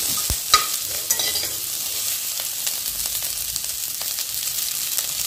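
Vegetables with capsicum and baby sweet corn fry in hot oil while being stirred, a loud continuous sizzle with scraping stirs throughout, no voices.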